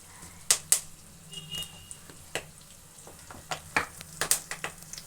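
Curry leaves crackling in hot oil in a pan for country-chicken fry, scattered sharp pops and spits over a faint sizzle, quiet and close, no voices.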